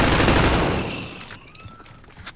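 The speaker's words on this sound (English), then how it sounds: "why am I always getting shot like this?" Gunfire from the video game Call of Duty Warzone comes as a dense, loud burst of rapid automatic shots that fades out, followed by a few scattered faint pops.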